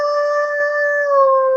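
A person's voice mimics a wolf howl during a hockey talk show: one long, loud, steady tonal cry that holds its pitch, then slides slightly at the end, with no other sound.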